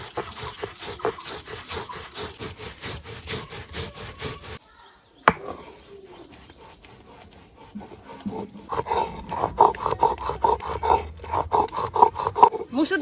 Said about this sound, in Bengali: এবার এই দুটোকে একসাথে পাটার মধ্যে বেটে নেব।